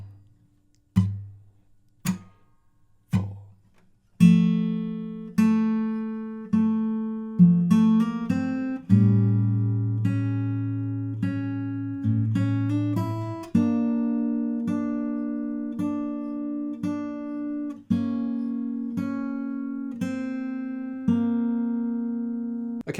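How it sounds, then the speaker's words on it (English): Fingerpicked acoustic guitar intro to a song, beginning with sparse plucked notes and then settling into steady arpeggiated chords, close and clean with no voices. "So that's the finger picked intro in total,"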